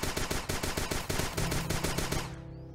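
Rapid automatic gunfire from a gun in the video game Starbound, a steady stream of fast, evenly spaced shots for about two and a half seconds that then stops abruptly.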